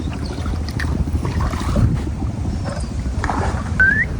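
A boat travels along a river in a Bangladeshi village, its steady low engine or hull rumble running throughout with wind buffeting the microphone and open-air ambience, no talking.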